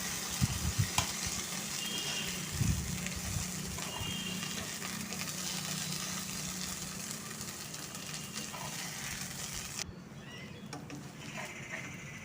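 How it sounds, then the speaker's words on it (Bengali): Ground bottle gourd leaf paste fries in a wok with a soft, continuous sizzle and intermittent stirring scrapes, fairly quiet and close, with no speech. "এবার বেটে রাখা পাতাটাকে দিয়ে দিলাম পাতাটা দেওয়ার পর এবার আমাকে একটু নেড়ে নিতে হবে"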